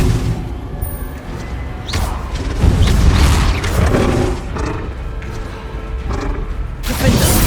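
Spell blasts from Bombarda, Confringo and shield casts in Hogwarts Legacy: dense booming impacts and crashes recur over a busy combat mix, with a loud thudding burst in the middle and another near the end.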